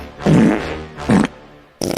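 A fart sound effect in a podcast intro, with three loud, close, blubbery bursts in quick succession, the first longest, heard alone without talk.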